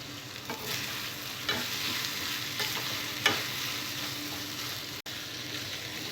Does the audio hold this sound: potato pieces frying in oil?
yes